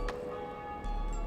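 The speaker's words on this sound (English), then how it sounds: "What does the bell ringing do?" A bell rings in the Dark Souls video game, a sustained metallic tone that holds steady through the brief moment over quiet game ambience.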